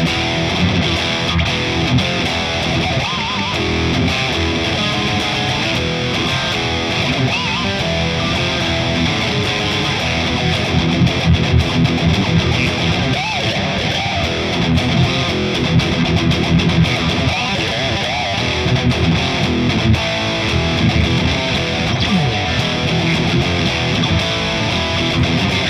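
A Fender Stratocaster electric guitar plays metal leads through heavy distortion, a loud dense continuous wall of driven tone with sustained notes running throughout.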